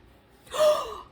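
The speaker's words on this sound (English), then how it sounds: "Mr. McBee gasped." A single sharp gasp, a quick breathy intake that swells and fades within about a second, close and alone with no talk around it.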